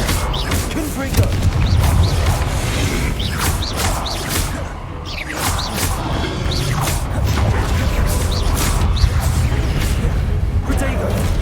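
Confringo fire spell cast in the video game Hogwarts Legacy, a dense, continuous roar of crackling bursts and booming impacts over rumbling game noise, loud throughout, with repeated casts blending into battle clatter.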